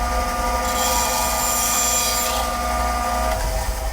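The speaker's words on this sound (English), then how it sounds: "I'm gonna go ahead and cut this on the bandsaw. Should be a fine tooth blade." A bandsaw with a fine-tooth blade cutting wood for a gouge carving attachment, giving a steady loud whine and hum that runs unbroken throughout, with no talk.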